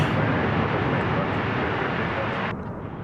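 An airliner roars on a runway at DFW airport at night, a loud, steady broadband engine rumble that holds throughout and eases slightly near the end.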